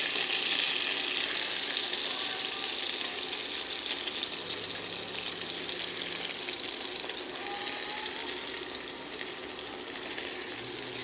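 Onions sizzle steadily in a hot pan while the sauce for chicken piccata is started, a bright, continuous close-up frying hiss with no talking.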